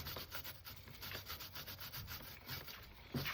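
A brush scrubs back and forth on a Kawasaki Z750 motorcycle chain, a quick rhythmic rasping of short strokes, close and steady.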